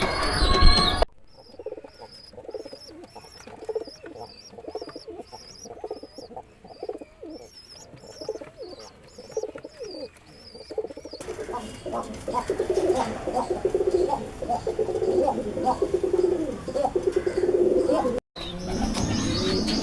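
Flocked high-flying racing pigeons coo in repeated soft, rolling calls with occasional chirps, close by, before the backdrop turns to busier, noisier ambience with more cooing mixed in.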